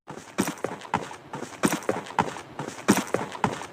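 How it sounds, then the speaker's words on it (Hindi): Enemy footsteps in PUBG Mobile thud in a quick, uneven rhythm, walking or running on a hard surface, fairly close and clear with no talking. "जब आपका एनिमी चलता है या फिर दौड़ता है तो कुछ ऐसी आवाज़ आती है"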